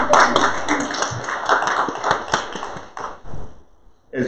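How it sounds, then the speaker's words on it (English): Church congregation applauding during an Advent Sunday service, a burst of scattered claps with a few sharper taps that thins out and fades toward the end, with a brief swell again at the close. "if y'all want to give yourselves a round of applause"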